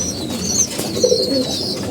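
Domestic pigeons kept in a loft coo steadily and fairly close, with soft overlapping throaty calls rolling on throughout and no voices.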